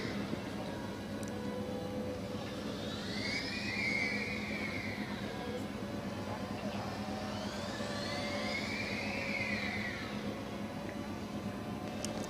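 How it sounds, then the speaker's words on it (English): A Formula Student race car lapping the skidpad at a competition, its engine rising and falling in two broad sweeps as it circles past, heard at moderate distance over steady crowd and ambient noise. "Car definitely sounds as smooth as it looks right now."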